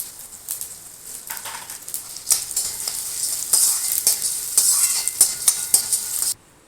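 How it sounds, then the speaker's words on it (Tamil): Chana dal fries in hot oil, a dense sizzling hiss with irregular crackles and pops building in intensity, then cutting off abruptly near the end. "இதிலே கடலைப்பருப்பு போட்டுக்கிறேன்."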